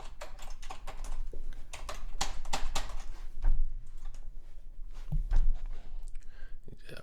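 Quick bursts of typing on a computer keyboard, crisp clacks in uneven runs, close and fairly loud, with a few pauses and a breathy sigh between flurries.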